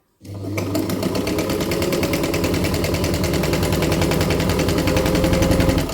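A Jones Model C sewing machine stitches fabric, starting abruptly and running at a loud, steady, rapid mechanical chatter for several seconds, close by and alone.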